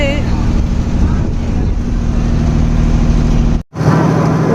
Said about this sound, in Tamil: போட் எடுத்துட்டாங்க, போய்கிட்டு இருக்கோம். சூப்பரா இருக்கு, செம்ம ஸ்பீடு.